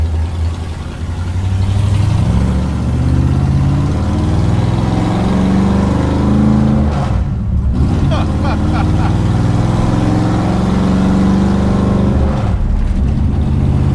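A 1962 Dodge Dart with a 413 Max Wedge V8 drives in third gear. Its deep engine rumble drones steadily and rises and falls in pitch, with a brief dip partway through.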